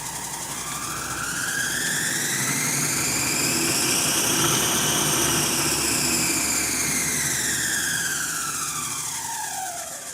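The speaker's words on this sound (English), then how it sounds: "The speed is variable here, electronically. It's like I can fire it up." An electronically variable-speed workshop machine spins up, its whine rising in pitch over the first few seconds, holding steady, then falling away near the end; a loud, continuous motor sound with no talking.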